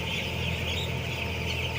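A dense flock of broiler chickens on a farm keeps up a steady, overlapping chorus of soft clucks and chirps close by, with no gaps.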